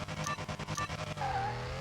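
A 2016 Porsche Carrera 4S in a drag racing video game, engine revving loud and rough with pulsing throttle at launch, then rising into a sustained whine with tire squeal.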